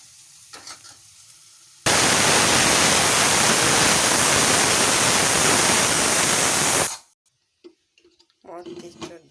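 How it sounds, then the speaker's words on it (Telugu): Water hits a pan of frying mutton curry seasoned with chilli, salt and turmeric, setting off a loud, sustained sizzling hiss for several seconds that ends abruptly, with brief talk before and after. "ఇప్పుడు వాటర్ వేయాలి"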